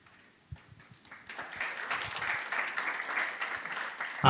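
Audience applause at a 2021 XR industry conference, welcoming a speaker onto the stage: sparse claps at first that swell into steady, moderately loud clapping from a hall crowd.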